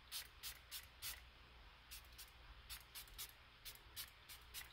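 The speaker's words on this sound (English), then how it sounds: "we're going to go ahead and mist this" A handheld spray bottle mists water onto a truck screen protector, likely for a 2023 GMC Canyon or Chevrolet Colorado, in a quick series of sharp, breathy bursts in small groups, close and alone over a low background hum.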